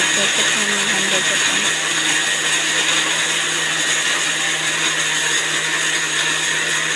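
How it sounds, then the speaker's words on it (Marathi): A mixer grinder runs loud and continuous, grinding dry dates and coconut with a steady whirring hum. A voice is faintly heard early on. "एकीकडे मिक्सरमध्ये खारीक खोबरं काढून देत होते"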